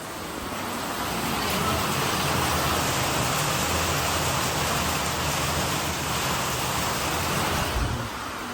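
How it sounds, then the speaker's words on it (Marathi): Heavy rain pours down steadily outdoors at night during a power cut, a dense unbroken hiss that holds at a loud, even level throughout. "पाऊस बाहेर मोठा लट चालू आहे"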